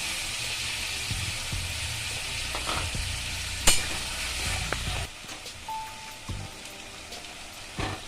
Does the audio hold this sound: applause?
no